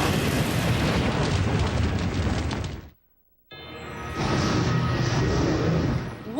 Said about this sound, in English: A dragon attacking the castle.